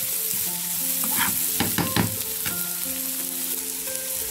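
Chopped onion fries in hot mustard oil, producing a loud, continuous sizzle broken by a few sharp stirring scrapes near the start.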